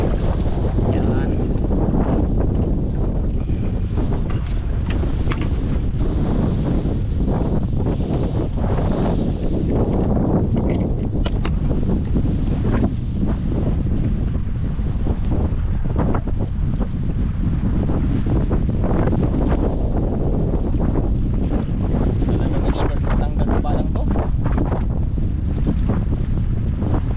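Strong wind buffets a fishing boat at sea, a loud unbroken roar with rushing gusts and wave wash, constant throughout with occasional knocks and a voice speaking briefly over it.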